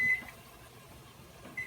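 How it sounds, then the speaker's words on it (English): A kitchen timer beeps while chicken cooks, with a short tonal beep at the start and another at the end, fairly quiet against a faint kitchen background. "our timer just went off for the chicken"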